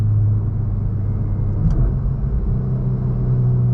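A Volkswagen MK8 Golf R cruises along with a steady, low, droning engine rumble inside the cabin, loud and even throughout, with a faint brief tick partway through and no talk.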